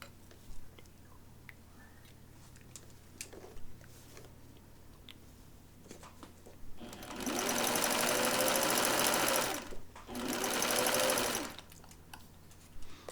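A sewing machine runs while stitching a blouse seam, in two close bursts of a few seconds each with a short pause between them. Before the bursts there is a quiet stretch with faint handling noises.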